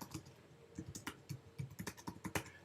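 Fingers type on a computer keyboard in quick, uneven bursts of close, crisp key clicks, with a few short pauses between the runs of keystrokes.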